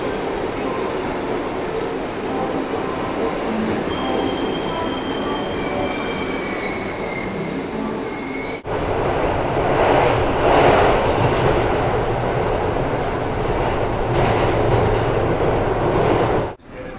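A New York subway train rumbles along the tracks, a loud, steady roar with wheels squealing and a rattling, clattering stretch after a sudden jump in loudness midway, alone with no talking.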